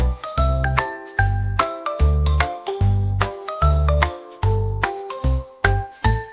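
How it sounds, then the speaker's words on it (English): Bright tuned bells ring in a lively, repeating pattern of struck notes with a deep resonant tone under each strike, loud and close with no voices. "making bells ring"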